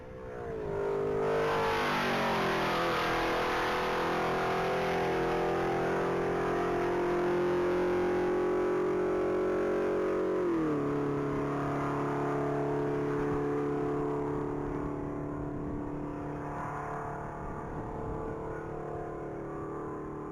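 White 2007 Ford Mustang at a top speed mile race, its engine roaring loud and close as it accelerates hard through rising gears, with a clear shift partway through, then the tone fading slightly as it pulls away.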